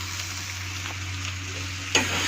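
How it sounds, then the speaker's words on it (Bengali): Spice paste for a gravy sizzles steadily in a pan while being stirred, with a constant low hum underneath and one louder scrape near the end. "এখন ভালো করে নেড়ে চেড়ে দেবো। মশলাটা আমার সুন্দর ভাজা ভাজা হয়ে গেছে"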